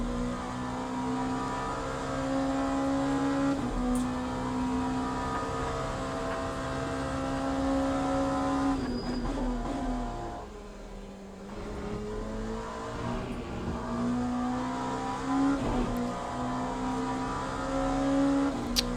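LMP2 prototype race cars at Monza in the sim racing game Le Mans Ultimate drone steadily at high revs, with several engines overlapping and shifting pitch through gear changes, plus a brief dip mid-way, no voices.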